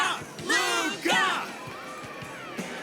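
Crowd cheers and whoops swell in two loud bursts, then fade to a murmur, in the video game Honkai Star Rail, a cage-fight arena.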